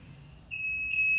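Buzzer of an LPG gas leakage detector built on an Arduino with an MQ9 sensor, set off by butane from a lighter: a steady, piercing electronic tone that starts abruptly and holds loud, with an added higher harmonic near the end.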